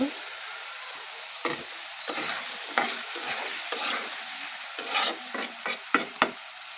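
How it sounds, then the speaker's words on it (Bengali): Potatoes sautéed in a pan for a home-style Bengali curry produce a soft sizzle broken by repeated spatula scrapes and clacks, close up, irregular and growing busier toward the end, with no talk. "একটু কষিয়ে নেবো"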